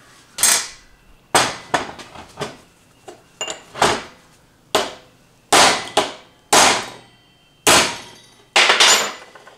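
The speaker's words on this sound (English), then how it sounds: "Take your chisel and smack a few times." Chisel hammered against a ground-down bearing race on an S10 rear axle to crack it, about a dozen sharp metallic strikes in irregular pairs and singles, close and loud with quiet gaps between.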